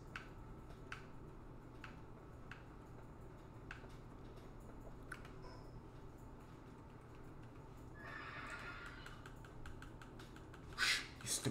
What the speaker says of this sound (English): Shh, you stupid horse.